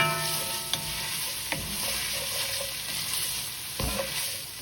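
Meat sauce with garlic powder being stirred in a pan, a continuous frying sizzle broken by a few sharp knocks and scrapes of the spoon against the pan.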